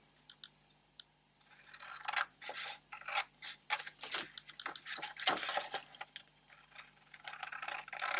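Quick snipping and crisp rustling of scissors cutting folded paper for a pop-up card, a steady series of close, dry cuts.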